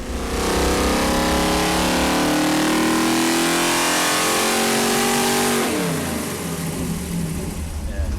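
A Chevy 454 big-block V8 roars on a dyno in a steady loud pull with rising pitch, then eases off near the end into a lower, rougher engine note.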